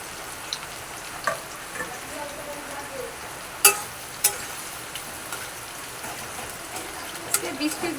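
Onions fry in a pan of hot oil, following fried potatoes and papaya, giving a continuous close sizzle broken by occasional clinks and scrapes of stirring.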